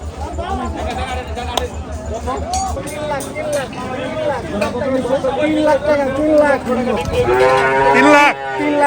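Cattle low and moo amid a noisy crowd of people chattering at a cattle market, with a steady rhythmic thumping early on.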